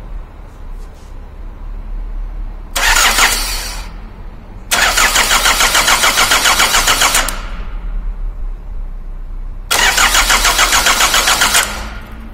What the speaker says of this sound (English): what is happening here when the ignition key is put to crank